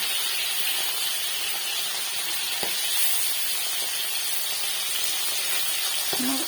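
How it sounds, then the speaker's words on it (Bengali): Small Bacha fish frying in oil in a pan: a steady, loud hissing sizzle throughout, close and continuous, with a faint brief clink of utensils. "তারপরে আর অল্প মাছ আছে, আবার ওইটাও ভেজে নেব।"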